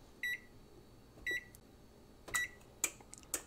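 An oven's control panel beeps while being set to preheat: two clear single tones about a second apart, followed by several quicker chirps and button taps, close and alone in a quiet kitchen.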